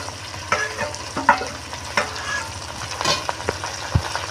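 Chili paste, cumin paste and ginger-garlic paste fry in a pan for village-style chana masala, a continuous sizzle with intermittent stirring scrapes and a few sharp knocks of a spoon.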